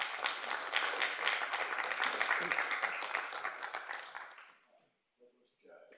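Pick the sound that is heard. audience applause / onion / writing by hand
audience applause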